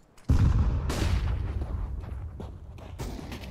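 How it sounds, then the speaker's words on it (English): A flashbang grenade goes off in Counter-Strike: GO, a sharp loud boom followed by a sustained ringing, rumbling tail that slowly fades over a few seconds, heard alone. "Throwing a flashbang."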